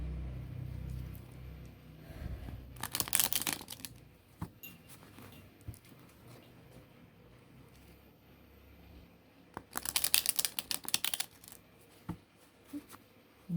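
Tarot cards shuffled by hand in two quick, crisp bursts of riffling and rustling, separated by a quieter stretch with faint handling noise, close to the listener.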